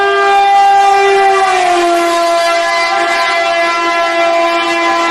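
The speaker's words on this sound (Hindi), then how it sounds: "लोकोमोटिव सायरन जनरेट करता हुआ ऑब्जर्वर की तरफ आ रहा है और उसको क्रॉस करता है" A locomotive siren approaches and passes close by as a loud, sustained, harmonic wail whose pitch drops partway through as it goes past, heard alone without speech.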